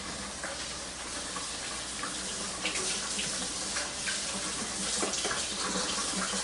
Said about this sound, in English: We're going to rinse our noodles a little bit just to cool it down.